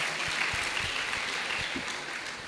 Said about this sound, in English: Can you please give yourselves another round of applause,